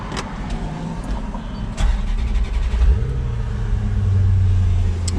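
A 2006 Maserati GranSport Spyder with about 27,000 miles cranks, catches with a loud burst near the two-second mark, then settles into a steady, deep idle that stays strong and close to the end.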